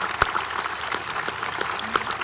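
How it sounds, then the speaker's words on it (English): Scattered applause from a high school graduation audience for the band and choir, with sparse, uneven claps rising from a room murmur and a few sharper hand claps standing out. "Let's give our band and choir one more round of applause,"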